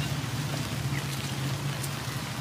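Steady typhoon rain patters on a surface in Vigan, Philippines, a dense even hiss with a low hum underneath, fairly quiet and continuous.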